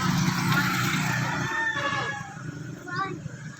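Backyard pet chickens cluck and a rooster crows nearby, the bird calls rising over a low rumble with a voice briefly audible.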